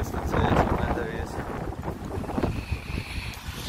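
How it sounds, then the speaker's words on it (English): Gusty wind buffets outdoors on a wet day, roaring and fluctuating with rumbling microphone noise, loud and continuous throughout. "It's very windy, it's very wet."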